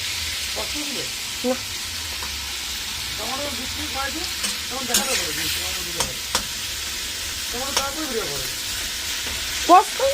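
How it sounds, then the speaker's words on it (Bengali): Chopped ginger and tomato sizzle and fry in a pan while a utensil stirs them, giving a steady hiss broken by scraping strokes and a few sharper clinks near the end. "আদা টমেটো সব একসাথে কেটে রেখেছিলাম ওটা দিয়ে দিলাম"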